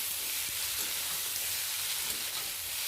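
Potatoes and steamed bottle gourd greens being stirred in a frying pan give a steady, close sizzle with soft scraping stirs throughout, with no talking.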